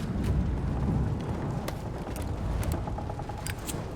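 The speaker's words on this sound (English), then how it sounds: "That sounds like gunfire." Gunfire in Indiana Jones and the Great Circle, set in Shanghai: sharp, scattered shots crack several times over a low, rumbling game ambience, moderately distant, with no talk.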